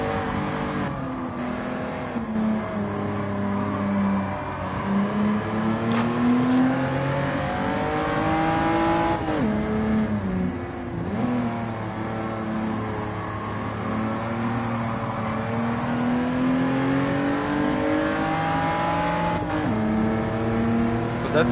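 Japanese racing cars in Gran Turismo 7, including a Nissan, a Toyota and a Honda NSX, with engines droning and climbing through the gears, pitch sweeping up and dropping at each shift, sustained and loud with no voices.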